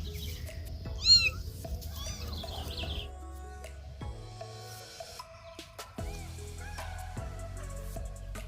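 Kittens meowing while playing outdoors, several high, rising mews spaced out through the scene, with birds chirping nearby and a low rumble and occasional knocks in the background.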